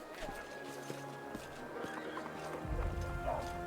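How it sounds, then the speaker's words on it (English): A horse in the video game Pathfinder: Wrath of the Righteous whinnies while hooves clip-clop in a steady walking rhythm, fairly faint amid soft game ambience. "Horse, horse, horse, horse, horse, horse, horse."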